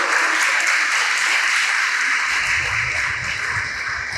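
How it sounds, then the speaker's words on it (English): A school assembly audience applauds a student choir with loud, steady, dense clapping that fills the whole stretch without a break. "A big round of applause for them."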